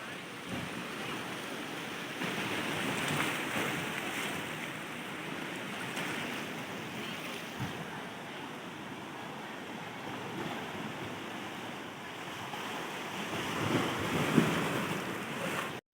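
Sea waves breaking against an eroded rocky shore at Shukla Tirth, a steady, continuous roar of surf with wind buffeting the microphone throughout and no voices.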